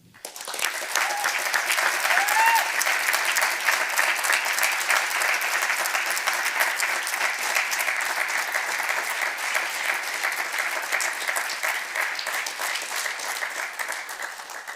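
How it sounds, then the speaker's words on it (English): Sustained audience applause for an artist at a Model UN conference opening ceremony, swelling quickly to a loud, dense clatter of many hands that continues steadily, with a brief whoop early on. "Let us give a round of applause to Evelyn."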